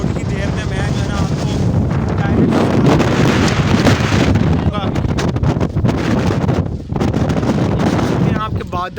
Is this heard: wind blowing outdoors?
yes